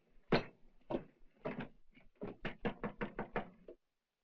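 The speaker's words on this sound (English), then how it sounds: "We'll knock on the door." Knocking on a wooden door, close and clear: a few spaced single raps, then a quick run of about eight firm knocks before silence.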